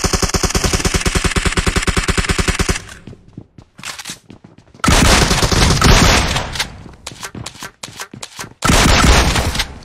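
Shotgun and other gunfire in Apex Legends: a loud, rapid run of evenly spaced shots, then quieter scattered pops, followed by two heavy, roaring blasts of fire near the end.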